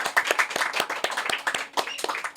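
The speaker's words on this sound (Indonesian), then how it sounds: "Berikan tepuk tangan yang meriah teman-teman." Audience applause during an Indonesian podcast recording, a couple of seconds of fairly close, dense hand claps with sharp individual strikes standing out.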